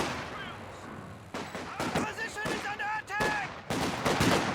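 In a Company of Heroes 2 multiplayer match, a sharp sniper rifle shot cracks amid other battle sounds, with a sustained game backdrop and several percussive blasts over a few seconds alongside brief tonal game cues, with no talking.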